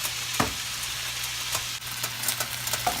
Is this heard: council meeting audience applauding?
no